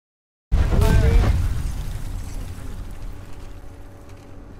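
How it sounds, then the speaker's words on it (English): Battleship shells exploding in the Foxhole video game, one loud deep boom with a brief high crack, its heavy rumble slowly fading over several seconds, with a voice shouting briefly over the blast. "Was that a battleship firing on us?"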